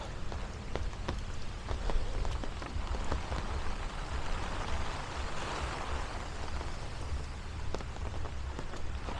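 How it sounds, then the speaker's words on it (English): Heavy rain patters steadily on an umbrella during a walk along a Brooklyn avenue, a dense, close hiss with sharp individual drop hits throughout and no voices. "if it rains extremely hard, sometimes it's hard to see and hear anything else around me other than rain"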